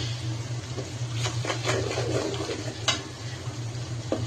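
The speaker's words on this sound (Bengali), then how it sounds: "পেঁয়াজটা একটু লাল লাল করে ভাজতে হবে।" Onions frying in a pan for matar pulao, a steady soft sizzle with a low hum beneath, broken by scattered scrapes and taps of a spoon stirring and knocking the pan.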